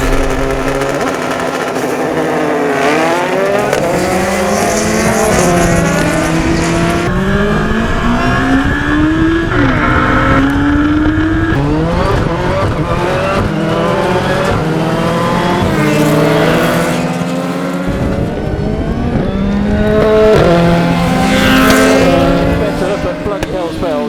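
Ariel Atom 3.5R, Yamaha YZF R1 and Monster Energy Citroen DS3 World Rallycross supercar racing over a quarter mile, loud engines revving hard through repeated rising gear pulls and shifts, close and sustained, with speech mixed in.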